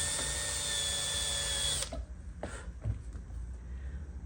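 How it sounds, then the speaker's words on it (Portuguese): A power drill with a small bit bores a hole while building a bed-bench for a Kombi van, a steady high whine for about two seconds that then stops, followed by a few light knocks and handling clatter. "Eu sempre furo primeiro com uma broca menor"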